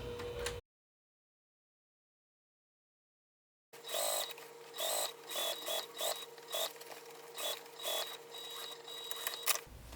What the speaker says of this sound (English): top stitch it just like this